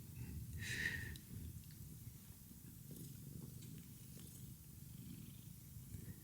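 A cat purrs softly and continuously up close in a quiet room, a low steady rumble with a brief faint higher sound near the start.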